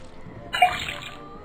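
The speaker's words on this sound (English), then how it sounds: "Then tap the faucet." Water from a faucet pours briefly into a cauldron in the Detective Grimoire video game, a short close splash and trickle that starts abruptly and lasts under a second.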